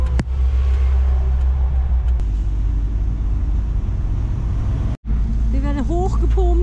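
Heavy vehicle rumble as a tow truck drives beneath a Mercedes expedition camper, a deep, steady engine drone with a brief dropout near the end, followed by faint squeaky mechanical sounds.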